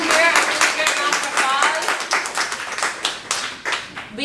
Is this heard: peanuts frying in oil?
no